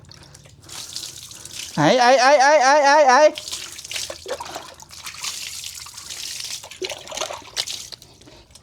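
Water is poured over a pig at bath time, a splashing stream heard behind a person talking and a loud squeal or cry, with wet sloshing continuing afterward.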